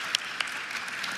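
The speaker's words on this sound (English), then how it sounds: "We guys give April a round of applause" An audience applauds a woman named April during an accountability group meeting, a steady wash of clapping from many hands with a couple of sharper claps standing out near the start, no voices over it.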